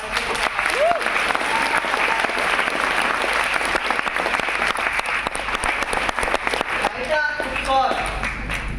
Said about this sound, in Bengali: সিনিয়রের জন্য জোরে একটা হাততালি হয়ে যায়